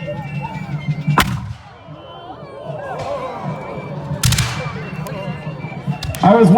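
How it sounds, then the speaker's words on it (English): Cannon fire at a War of 1812 battle reenactment in Stoney Creek, with two loud booms several seconds apart and a further sharp blast at the end, over an outdoor crowd murmuring and reacting. "was wondering if I should warn you about the cannon,"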